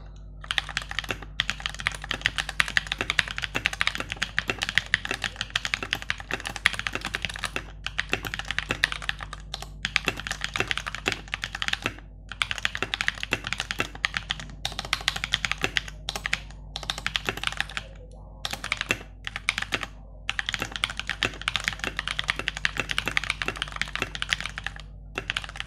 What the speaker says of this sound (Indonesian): berikut adalah tapping test dari keyboardnya